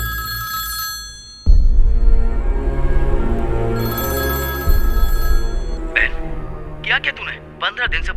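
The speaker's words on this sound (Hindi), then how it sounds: "भवानी, अपने भाई को फोन लगाकर बात करो।" A telephone rings with a steady electronic bell tone over background music, then stops as a voice starts speaking.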